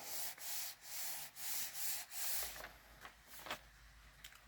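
A rubber stamp pressed onto paper is rubbed down by hand to transfer ink during a card-making craft, giving several close, soft, rhythmic scrubbing swishes followed by a few light taps and rustles.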